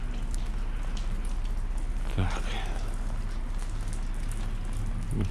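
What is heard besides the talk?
rain falling at night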